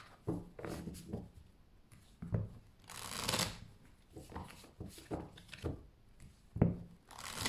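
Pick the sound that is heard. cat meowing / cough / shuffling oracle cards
shuffling oracle cards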